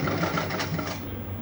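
A sewing machine stitches the shoulder seam of a collar-neck kurti, giving a close, rapid, continuous mechanical chatter.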